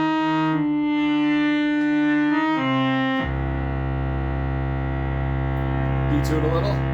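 A Yamaha CS70M synthesizer plays a sawtooth-wave patch with the filter resonance at maximum, giving sustained buzzy harmonic tones. The notes change pitch and a lower, richer tone holds steady through the second half, loud and alone.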